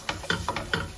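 A spoon stirs yogurt through chicken curry in a pan with the heat off, making four quick, evenly spaced wet scrapes and squelches, close and fairly quiet, with no one speaking.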